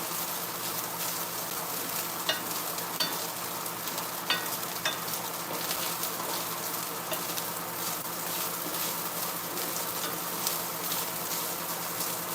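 A stir fry sizzles steadily in a hot nonstick grill pan, a dense continuous crackle with occasional light clinks from stirring, close and even throughout with no voices.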